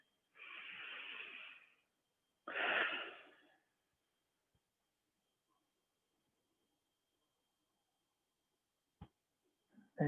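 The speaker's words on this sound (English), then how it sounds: "deep breath." Two slow, deep breaths during a Pilates session, a long airy exhale followed by a shorter breath, close and soft, then near silence with a faint click or two.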